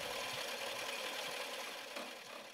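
A solar synergy motor built in a workshop drives a multipurpose grinder mill, giving a steady, dense mechanical whir with a faint rhythmic chatter, moderately loud and unbroken throughout.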